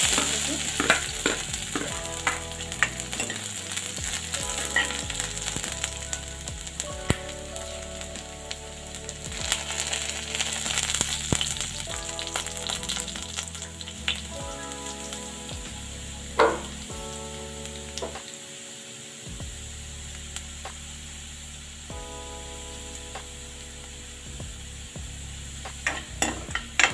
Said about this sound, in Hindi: मैं इसमें लहसुन डालती हूँ, मैंने काट लिया है।